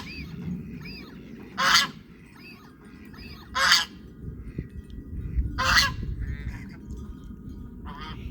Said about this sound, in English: Even the buff geese went nuts when I first brought it out here.